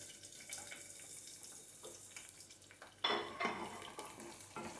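Thick-cut onions go into oil with fatty beef tongue, bringing quiet stirring and faint sizzling that swell into a louder crackle partway through, with occasional pan clatter and no speech.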